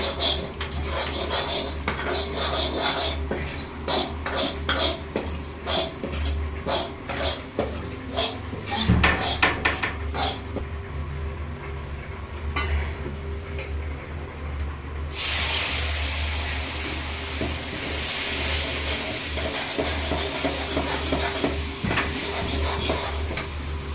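Chaunsa roasts in a pan on a Pahadi home stove, a steady sizzling hiss that swells louder and brighter partway through, with scattered clinks and light background noise.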